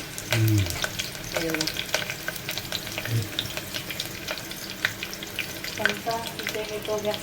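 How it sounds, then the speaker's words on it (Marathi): Mutton hisses and sizzles steadily as it hits a Malvani-style tempering of hot oil with curry leaves and onion, with a few stirring scrapes breaking through the constant frying noise close by. "आता मटण फोडणीला घालत"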